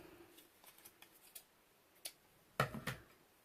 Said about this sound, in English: I'm gonna cut a piece here.